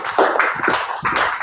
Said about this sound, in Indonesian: tepuk tangan untuk Hafi Amini